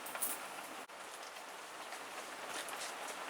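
Pouring rain outdoors around a garden repotting spot: a faint, even hiss of rainfall heard from a distance, broken by one brief dropout early on, with no talk.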